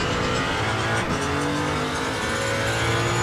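Prototype race car engines roar at close range in the Le Mans Ultimate racing game, a loud continuous drone with pitch shifts as the cars accelerate and shift gears.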